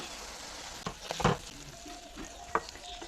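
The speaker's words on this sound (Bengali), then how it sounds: "ভালো করে নেড়ে চেড়ে নিয়ে নিব আমি।" Mustard paste stirred into frying fish masala in a pan: a steady low sizzle with a couple of louder scraping strokes of the spoon, close by, with no talking.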